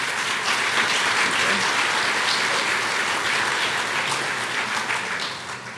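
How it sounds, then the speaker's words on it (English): A roomful of attendees at a community foundation's annual meeting breaks into strong, continuous applause that holds steady and then starts to ease off at the end. "If you could please join me in a round of applause."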